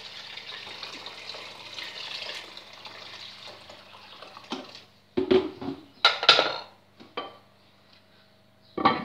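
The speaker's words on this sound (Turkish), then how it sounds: "Üzerine sıcak suyumu ilave ediyorum." Hot water poured into a pot of lentils and oil, a steady liquid stream at first, then clanks and knocks of the pot and lid, close and moderately quiet.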